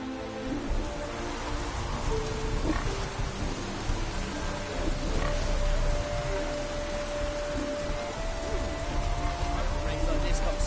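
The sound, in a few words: rain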